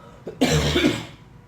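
One harsh, loud cough bursts out close up, preceded by a small catch in the throat, then fades into quiet.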